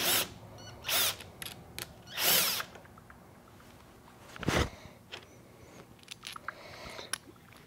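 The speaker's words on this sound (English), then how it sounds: "Come in here, just take these bolts out." Bolts being removed from a 2023 KTM 300XC enduro motorcycle with a power tool: several short whirring bursts separated by pauses, with faint clicks and handling noises between them in a quiet workshop.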